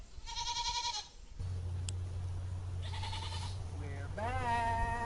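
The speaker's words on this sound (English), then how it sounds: "Is that a goat?" A goat bleats in short, wavering cries, first alone and then over a steady low hum, with a couple more quavering bleats near the end.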